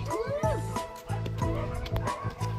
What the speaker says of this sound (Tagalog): sobrang ingay ang mga aso